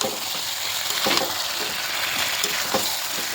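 Small potatoes stir-fried with kasuri methi in a pan, a steady close sizzle with repeated scraping strokes of a spatula, no speech.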